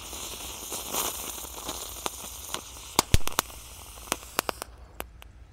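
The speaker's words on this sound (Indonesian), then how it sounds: "Lanjut kalau ini ada gangsing jumbo pretek." Crackling and sharp pops from a jumbo spinning ground firework, with a hissing spray building into a burst of loud snaps, then scattered cracks trailing off.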